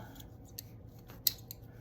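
Dull scissors, kept by a sewing machine during slow hand stitching, make a few quiet snips close by, with one crisper cut standing out in a soft room hush.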